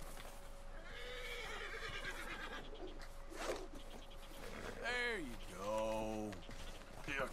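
A wild white horse in the video game Red Dead Redemption 2 neighs with a loud, clear whinny that rises and falls near the end, following an earlier shorter whinny, with someone talking over parts of it.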